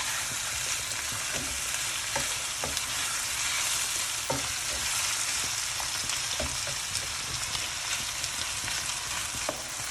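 Onions softening in a frying pan, a steady close crackling sizzle with intermittent stirring scrapes and taps throughout, with no voices.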